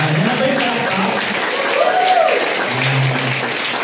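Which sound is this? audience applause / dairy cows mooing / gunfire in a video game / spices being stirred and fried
audience applause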